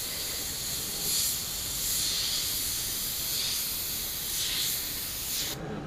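An airbrush sprays Createx opaque black paint. A steady, close, airy hiss swells slightly now and then and cuts off abruptly at the end.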